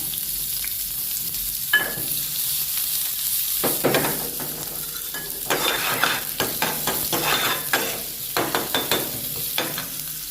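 Cumin seeds and chopped onion sizzling in a pan while cooking kharda chicken, a steady close frying hiss broken by clattering stirs and spatula scrapes against the metal, with no talking.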